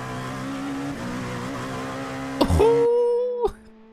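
A race car engine in a racing video game at Sebring International Raceway drones at steady revs from the cockpit, then shifts with a brief squeal and settles to a lower tone, while someone talks over it.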